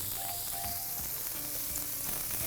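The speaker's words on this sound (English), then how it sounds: "So they're nicely sizzling. I like the sound of them sizzling." Steady crackling sizzle of turkey meatballs frying in a pan, continuous and fairly quiet, with faint clinks and hums in the background.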